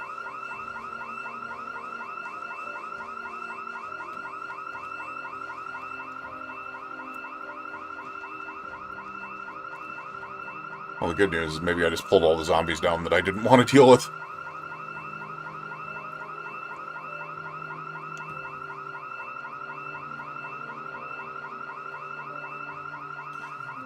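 A car alarm in the Project Zomboid video game wails steadily and loudly the whole time, with a burst of louder in-game noise partway through. Someone talks over it briefly.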